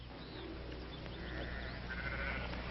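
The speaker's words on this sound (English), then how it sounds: "Now, Drummond, get those sheep out now." Sheep bleating in an outdoor ranch scene, a few faint wavering calls carried over a steady background hum, with no talking.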